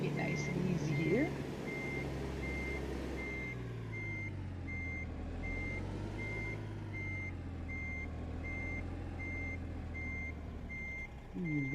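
A truck in American Truck Simulator reverses with a steady rhythmic backup beep that repeats over a low engine rumble. Someone talks over it for most of the stretch.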